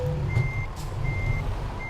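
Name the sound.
truck reversing beeps in the video game Euro Truck Simulator 2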